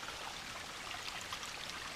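Water runs down a steep, rocky trail in the White Mountains like a small stream, giving a faint, steady rushing and trickling hiss with no voices.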